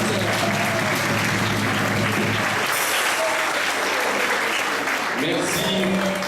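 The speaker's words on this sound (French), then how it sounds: "Des applaudissements pour Margaret." Audience applause at a high school prize-giving ceremony, a dense, steady wash of clapping that fills the whole stretch, with a voice briefly audible beneath it.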